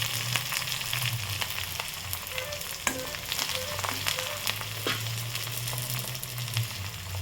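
Onion, garlic, coriander and cumin sauté in hot tempering oil, giving a steady close sizzle and crackle throughout, with faint occasional stirring clicks and no talk.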